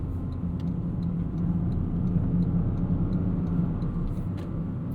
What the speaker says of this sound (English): The IMT system works great, really smooth downshifts.